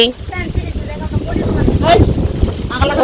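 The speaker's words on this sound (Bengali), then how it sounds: "সুন্দর বাতাস হইতাছে" Wind blowing outdoors in a village, heard as gusty low rumble buffeting the microphone beneath nearby people talking.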